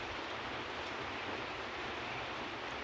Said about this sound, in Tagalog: Rinig na rinig naman, di ba? Yung lakas ng ulan.